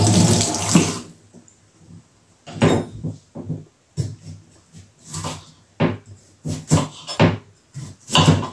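Tap water running intermittently while a cucumber is washed at a kitchen sink, close splashing bursts stopping and starting with knocks and rinsing sounds, no talk.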